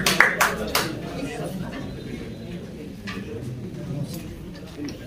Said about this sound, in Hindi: मिस्टर फैसल खान के लिए तालियां, जबरदस्त तालियां।